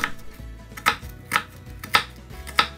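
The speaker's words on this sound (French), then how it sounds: "Ensuite, je tranche perpendiculairement à la planche à découper." A knife slices through an onion on a cutting board in five evenly spaced crisp chops, close and clear.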